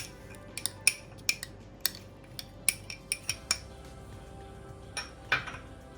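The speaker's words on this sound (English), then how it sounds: "Now I'll mix this, all the ingredients for the bhel into the bowl" Utensil clinking against a bowl while Maggi bhel ingredients, roasted Maggi noodles and a paste, are mixed together; a dozen or so sharp metallic clinks in an uneven rhythm, fairly quiet and close, with no talking.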